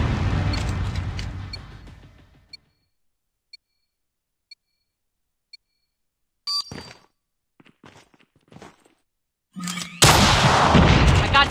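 Call of Duty Mobile gunfire in the Gulag mode on Android/iOS: a loud burst opens, then sparse faint ticks, scattered sharp shots, and a heavy loud volley at the end, with no talking.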